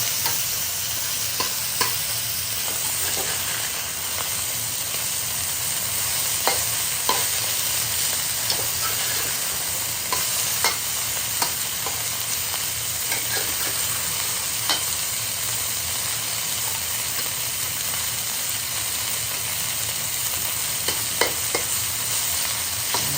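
Pepper steak sizzling in a hot pan just after being flipped, a steady loud frying hiss with scattered pops and crackles, no talking.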